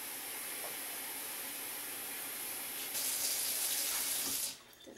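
Tap water runs steadily into a container in a home kitchen beside the oven, becoming brighter and louder partway through before cutting off abruptly near the end.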